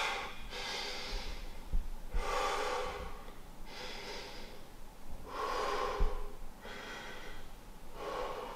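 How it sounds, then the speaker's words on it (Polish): Slow, deep breaths during a yoga exercise, a steady cycle of soft airy inhales and exhales, about five breaths spaced a second or two apart, close and quiet with no talking. "głęboko będziemy oddychali"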